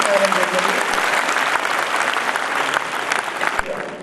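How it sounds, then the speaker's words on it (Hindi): An audience at an LIC programme breaks into loud, steady applause, a dense wash of many hands clapping together without pause, close and sustained. "तो एक बार जोरदार ताली बजा दीजिए।"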